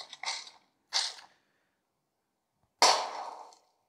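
Weapon reloading automatically in a video game played on a Samsung Galaxy Tab A9+ tablet: three short mechanical clacks, two close together, then a longer metallic clatter after a pause, with no talk.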